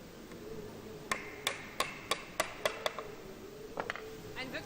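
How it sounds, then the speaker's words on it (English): A series of sharp, evenly spaced hammer blows driving wooden dowels in, about seven strikes close by, followed by a few lighter taps. "And just hammer them in."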